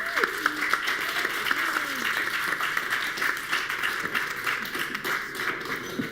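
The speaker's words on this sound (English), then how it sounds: "So a round of applause, please. Round of applause, guys." An audience applauds after a student-union Q&A with community vice-president candidates, steady broadband clapping filling the whole stretch while a few faint voices murmur underneath.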